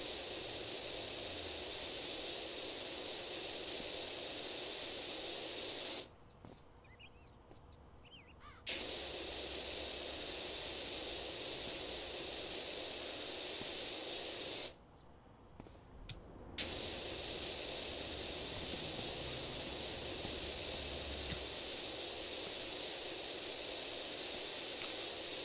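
Steady pressure-washer spray in PowerWash Simulator, blasting dirt off a skate park in the American Wasteland setting, a loud continuous hiss broken by two brief pauses where the nozzle stops before spraying resumes.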